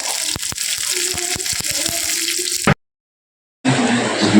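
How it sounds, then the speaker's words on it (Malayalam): Curry leaves hit hot oil in a pan, setting off a loud, close, continuous spitting sizzle with crackly pops, broken by a sudden second of silence before the sizzle resumes at full strength. "കുറച്ച് കറിവേപ്പില ഇട്ട് കൊടുക്കുന്നുണ്ട്"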